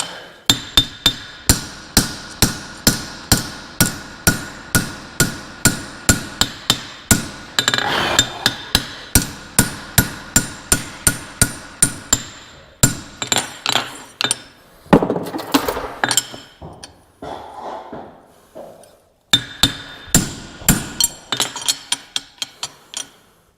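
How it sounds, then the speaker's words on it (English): A blacksmith fullers metal on an anvil with a fast, regular run of sharp ringing hammer blows, each strike crisp and close. After a few short pauses and a looser, clattering stretch, the steady hammering picks up again. "Finish off our fullering."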